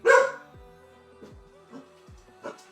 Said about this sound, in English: My dogs are the notification today, Steve.